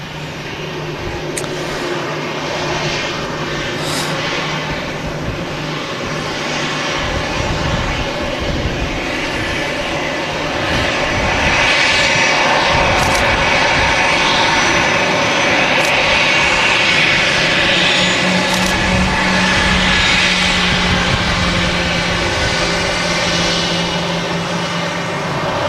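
Iceland Air Boeing 737 MAX 8 airliner taxiing at Manchester Airport, a steady jet engine roar that swells louder and nearer in the second half, continuous with no talk.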